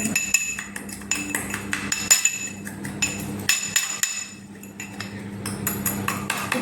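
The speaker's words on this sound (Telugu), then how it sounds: "ఇప్పుడు వీటిని మనం బాగా దంచుకోవాలి ఫ్రెండ్స్" Ingredients are pounded with salt and chili, giving a string of sharp, ringing knocks in an uneven rhythm, close and fairly loud, with some metallic clinking between strikes.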